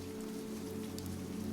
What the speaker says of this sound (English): the rain continues to patter on the windows